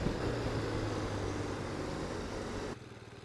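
A BMW motorcycle engine runs with a steady, loud, broadband drone and a low harmonic hum, cutting off abruptly near the end to a quieter rumble.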